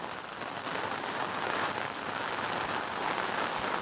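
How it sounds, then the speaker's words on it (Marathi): Steady heavy rain pours down, a dense unbroken hiss of drops drumming on surfaces, loud and close throughout with no voices. "दहा मिनिटापासून या ठिकाणी जोरदार पावसाची सुरुवात"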